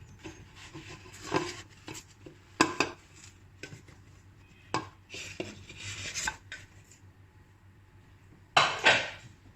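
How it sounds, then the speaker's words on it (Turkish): A carrot walnut cake in its baking pan is flipped over onto a plate, producing a few scattered metallic clanks and scraping knocks that are fairly quiet overall, with a louder clatter at the end. "Böyle bir tabağıma ters çeviriyorum."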